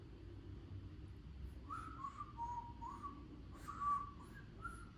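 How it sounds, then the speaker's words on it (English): A person whistles a few short, faint tonal notes in an uneven run, heard over a low steady background rumble with no talk. "I can't really whistle well"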